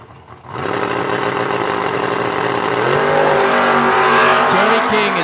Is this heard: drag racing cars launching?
yes